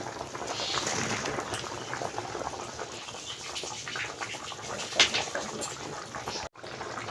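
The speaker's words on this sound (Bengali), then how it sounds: "তরকারিটা ফুটে উঠছে" Fish curry with elephant-foot yam, pointed gourd and cinnamon bark simmers in a pot, giving a steady, continuous bubbling hiss from start to end, with a brief break near the close.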